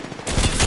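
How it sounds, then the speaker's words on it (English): Apex Legends gunfire, a brief, loud rattle of rapid shots that starts abruptly and continues to the end. "The enemies are shooting at me."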